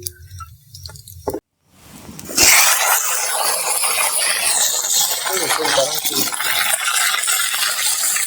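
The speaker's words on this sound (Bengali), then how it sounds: "গরম তেলের মধ্যে আমি এখন ঢেঁড়সটা দিয়ে দিয়েছি" Okra tossed into hot mustard oil: after a brief quiet gap, a sudden strong sizzle bursts up and keeps crackling steadily and loudly to the end, with some stirring.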